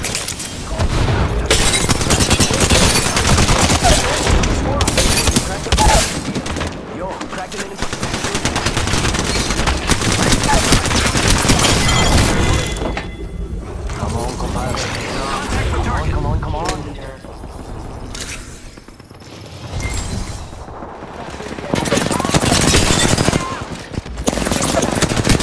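Dense, nearly continuous automatic gunfire with bursts and heavy firefights in the Apex Legends shooter, loud and sustained with brief lulls, a voice talking over parts of it.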